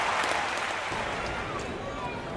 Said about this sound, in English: Very appreciative fans here at Fenway applaud that defensive effort